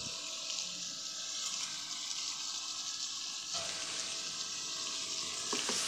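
Chicken karahi with ground green chili paste sizzling steadily in the pan, with occasional scrapes and clinks as a spoon stirs it, close and continuous with no talk.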